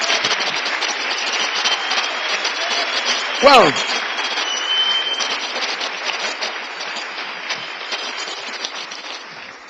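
A church congregation applauds in a dense, continuous patter of clapping that fills the room and slowly tapers, with a single voice exclaiming briefly over it.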